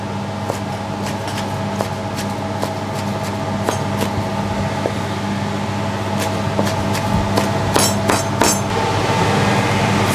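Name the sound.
chopping ingredients finely for chicken rice sauce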